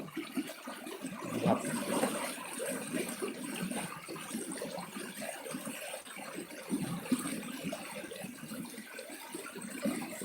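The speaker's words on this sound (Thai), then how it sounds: "เสียงน้ำไหล" A flooded stream at Ban Na Wiang, Yasothon, Thailand, rushing and gurgling steadily, a continuous flowing wash heard close by with no voices.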